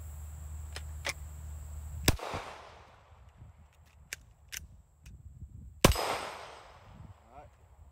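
Handgun shots fired on a range, two loud sharp cracks about four seconds apart with a short ringing decay, plus some fainter clicks and taps between them.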